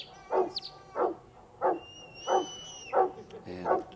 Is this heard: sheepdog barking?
yes